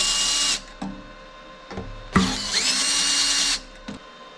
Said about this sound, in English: Bolts going in pretty easy.